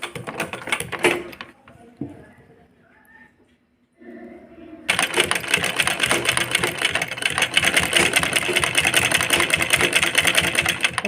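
A sewing machine stitches lace along the edge of a chunni, first in short bursts around a quiet pause, then running fast and steady with a continuous rattling whir.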